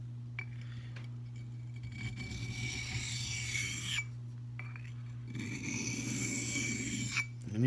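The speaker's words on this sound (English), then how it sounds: "Let me try to deburr this thing a little bit real quick." A carbon steel mini cleaver edge is deburred in two bursts of close scraping and rubbing over a steady low electrical hum, with quiet gaps between the strokes.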